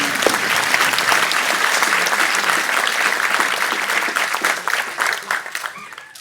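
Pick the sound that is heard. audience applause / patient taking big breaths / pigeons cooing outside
audience applause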